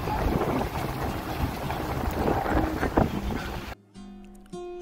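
Strong wind buffets the microphone on a dune-lined beach near a lighthouse in Natal, Brazil, a loud, steady rush that cuts out abruptly near the end, leaving faint tonal background sounds.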